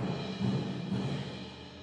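Theatre organ playing its marching-band percussion effects at a musical museum concert, a dense, steady drum-and-cymbal texture with low thumps, fairly loud and unbroken throughout, with no talking.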